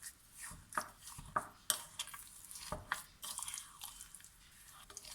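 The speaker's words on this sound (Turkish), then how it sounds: "Şöyle güzelce karıştıralım." Poppy seed paste mixed with vegetable oil is stirred in a bowl with a spoon, giving soft irregular scraping and sticky tapping sounds, close and quiet.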